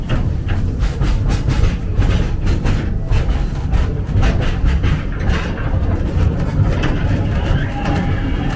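A steam museum train ride at Bressingham clatters on continuously, a loud, close rolling rumble with a repeated clickety-clack rhythm of the wheels on the track.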